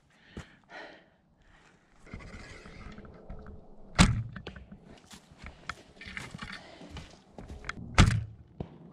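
Arrows from a recurve bow striking a target outdoors: two sharp, solid thunks about four seconds apart stand out over quieter rustling, breathing and soft shuffling movement nearby.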